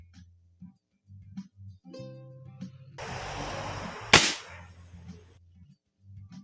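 CO2 airgun test-fired after a firing pin repair: one sharp, loud crack preceded by a hissing burst, with handling clicks and quiet low rumble around it.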